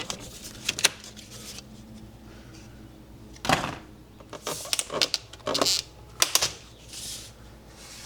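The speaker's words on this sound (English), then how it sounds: "Now I need to remove all the two side sashes and clean up." Old side sashes, held in for about 45 years, are pried and worked out of an Andersen Narroline window frame, giving close, irregular knocks, clacks and short scraping bursts separated by quieter pauses.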